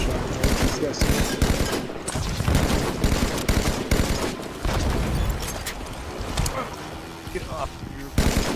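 Dense, loud gunfire in the Halo 5 video game: sustained rapid shots and booming blasts fill the whole stretch with little let-up, while a player's voice is faintly mixed in.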